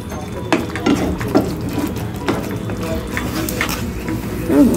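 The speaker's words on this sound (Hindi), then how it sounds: "इसे अच्छे से मिक्स करेंगे।" Homemade pizza sauce is stirred in a pan, with repeated scraping and knocking of a spoon against the pan over a soft bubbling simmer, close and fairly loud.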